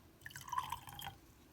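A little water poured off a container of rooting plant cuttings makes a brief, soft, close trickle and splash lasting under a second in a quiet room.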